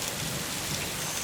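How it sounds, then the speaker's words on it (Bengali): A cartoon storm of dense, steady rain roaring loud and close, with a heavy low rumble beneath suggesting thunder; no voices. "ঈশ্বর, কত ঝড় উঠল,"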